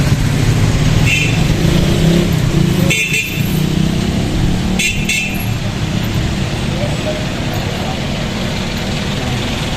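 Cars, motorcycles and other vehicles pass along a town street in Plaridel, Bulacan, as a continuous loud traffic roar with engines revving and a brief horn, while someone talks over it.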